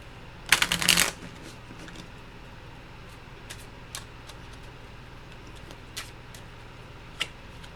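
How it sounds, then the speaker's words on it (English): A Lenormand card deck is shuffled in one quick, close riffle, followed by a few faint isolated clicks and taps in an otherwise quiet room. "I just shuffled most of these decks"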